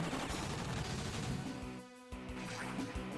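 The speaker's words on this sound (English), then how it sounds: "now our bazooka guys use machine guns on infantry" Rapid machine-gun bursts from a handheld strategy game, Advance Wars: Dual Strike, as bazooka infantry fire on enemy foot soldiers; dense crackling volleys fill most of the clip, briefly dropping away before resuming.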